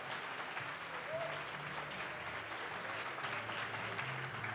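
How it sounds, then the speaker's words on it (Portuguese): Audience applauding the finalist teams at the closing of a physics debate competition final, a steady, fairly quiet wash of clapping from a crowd that holds evenly throughout. "vamos aplaudir os times finalistas"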